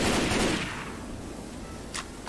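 Gunfire in the zombie shooter Left 4 Dead: a loud burst of shots fading into a rumbling tail, followed by a single sharp crack near the end.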